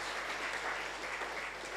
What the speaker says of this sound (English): I think we can clap again for all our three speakers.